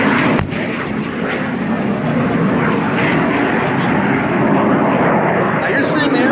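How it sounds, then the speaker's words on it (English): Restored military aircraft flying a steep 45-degree bombing attack run, a loud continuous engine roar that stays dense and steady throughout, with a sharp bang near the start. "Watch the steep 45-degree angle bombing attack run on March does"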